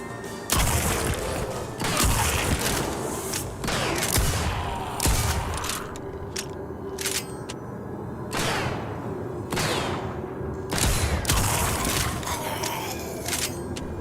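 Shotgun blasts in the video game TimeSplitters Rewind, loud sharp booming shots fired one after another at uneven intervals, with crackling impacts and game effects between them.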